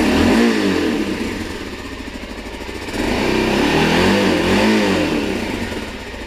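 Old kayak's small engine revs loudly up past 4,000 RPM, holding a high buzzing drone that dips in the middle and climbs again, close and alone with no speech.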